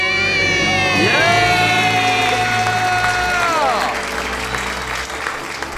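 A studio crowd bursts into loud cheering and screaming with applause, high excited voices ringing out together before easing slightly.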